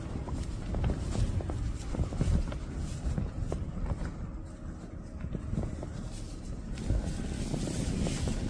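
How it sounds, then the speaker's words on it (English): Strong wind buffeting the microphone around a campsite tent at night, with faint irregular footsteps or rustling moving nearby beneath the steady gusting noise. "o vento soprava forte ao redor do acampamento, mas por baixo dele era possível ouvir passos"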